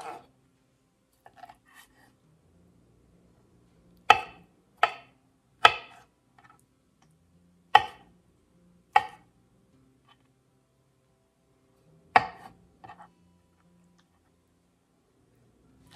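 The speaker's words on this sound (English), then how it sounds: "you want to just not finely chop, but just cut them up a little bit" A knife chops artichokes on a cutting board for a frittata, sharp isolated thunks falling in a loose, uneven sequence with quiet pauses between them.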